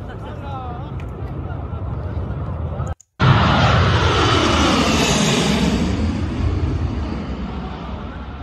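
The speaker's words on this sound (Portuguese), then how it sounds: "O avião decolou." An airplane takes off at Kabul airport amid crowds, its loud jet roar swelling and sweeping past after a brief cut, with a shifting, rushing tone over background crowd noise.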